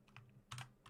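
Keys on a computer keyboard are struck in a few short, close clusters of clicks, three bursts within about a second, with no voices.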